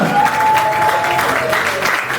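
Applause from the audience at a home concert of African music, greeting the band's first manager: a loud, close wash of clapping with a sustained tonal note and faint voices running through it.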